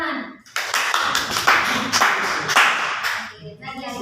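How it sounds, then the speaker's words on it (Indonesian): A class of students claps hands together, a burst of sharp, loud claps close by that swells and then fades out, with voices heard at the end. "Oke, tepuk tangan."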